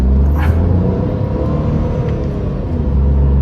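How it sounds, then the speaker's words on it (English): A Tata Tigor with an AMT gearbox pulls away from standstill, its engine giving a loud, steady low rumble and whir from inside the car. "The initial pickup and punch is fairly good for this car, and the speed build-up is actually good"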